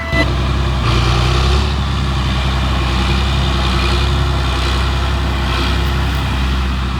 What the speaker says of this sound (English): Now me and Dad are in the tractor plowing up peanuts.